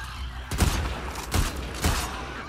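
Three sharp, heavy sniper gunshots ring out at uneven intervals in the video game The Last of Us Part II, each with a booming echo, over a constant background rumble.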